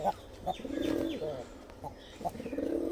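Giribaz pigeons, a breeding pair kept in a cage, coo in repeated low throaty bursts at close range, with some faint chirps and rustling behind them.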